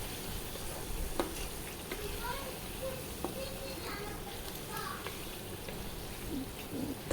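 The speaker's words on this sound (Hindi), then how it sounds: "तकरीबन हमने 5 मिनट तक इसकी भुनाई अच्छी तरह करनी है।" Koftas being sautéed in a masala curry, a soft continuous sizzle with occasional stirring scrapes; faint voices are heard in the background.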